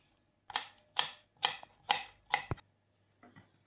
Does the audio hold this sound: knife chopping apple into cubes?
yes